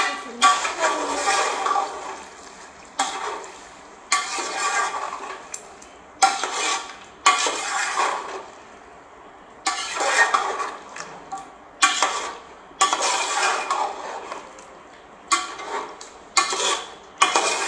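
A spoon stirs and mixes chicken qorma in a metal pan, making repeated scraping and clattering strokes in steady bursts with short gaps between them, loud and close, with a soft sizzle underneath.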